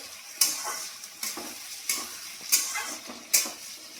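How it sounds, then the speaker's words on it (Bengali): Onions frying in a pan as the base for a spicy chicken kosha, with a steady soft sizzle broken by about five sharp stirring scrapes at even intervals; no voices. "পেঁয়াজগুলো দিয়ে ভালো করে একটু পেঁয়াজগুলো ভেজে নেবো।"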